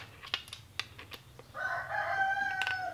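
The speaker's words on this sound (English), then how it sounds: "the chickens are vocal today" Chickens cluck in short, scattered bursts before a rooster lets out a long, loud crow that carries to the end, set against a low background hum.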